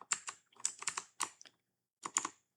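Quick bursts of typing on a computer keyboard, close and crisp, in three short clusters of keystrokes with brief pauses between them and no voices.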